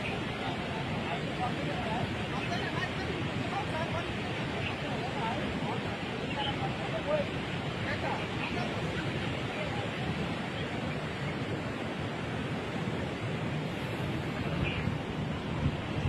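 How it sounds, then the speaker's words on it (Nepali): The swollen Reli river rushes in a steady, loud roar of broadband water noise, with wind buffeting the microphone and faint voices in the background throughout. "रेली खोला पनि निकै बढेको छ"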